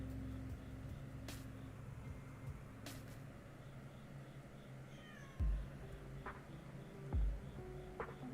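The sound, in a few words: cat meowing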